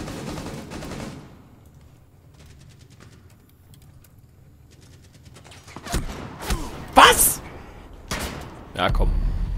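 Gunfire in the video game Rainbow Six Siege, a few loud sharp shots and impacts clustered near the end after a quieter stretch, with someone speaking over the game.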